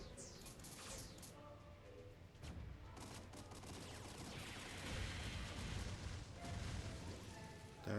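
Cherry Winger's strike shot attack in a video game, a rapid burst of gunfire-like blasts rattling continuously under background game noise and music.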